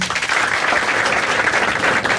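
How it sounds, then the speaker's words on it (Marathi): A crowd at a live comedy show claps together in a short burst of steady, loud applause, many hands blending into a dense, continuous patter. "हा एकदा टाळ्या वाजायची आणि सगळ्यांनी"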